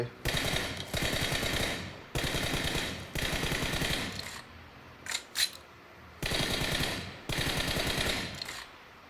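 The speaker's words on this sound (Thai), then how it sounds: "ปืนเนี่ยมันก็จะยิงไปที่กำแพงแบบโคตรเยอะเลย" Automatic gunfire from the mobile battle-royale game PUBG Mobile, fired at a wall: long, dense rapid-fire bursts with short gaps, loud and close, with a couple of sharp isolated shots in the middle.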